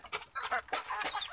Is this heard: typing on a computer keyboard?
no